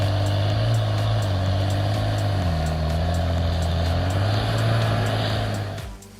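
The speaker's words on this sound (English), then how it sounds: "As the final truck roars away" A logging truck roars away with a loud, steady, deep engine drone and a shifting gear pitch that holds strong before fading out at the very end.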